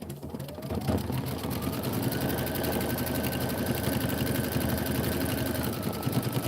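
Kimberbell April tile design stitching out on an embroidery machine, a steady, loud mechanical whir with rapid needle pulses that runs continuously from start to finish.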